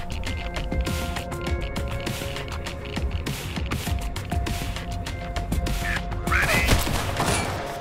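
Scattered video game gunfire during an attack on a headquarters in The Last Haven, with repeated sharp shots and thuds spread across the clip amid other game sounds.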